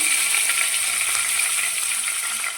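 Cumin seeds, a pinch of asafoetida and curry leaves crackle in hot oil for brinjal bharta, a loud, close, continuous sizzling hiss that stays steady and dense with no talk over it.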